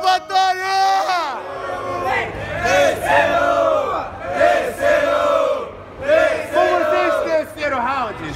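A crowd at a Brazilian freestyle rap battle roars and shouts together in loud, sustained waves, with rising and falling collective yells and cheers filling the whole stretch.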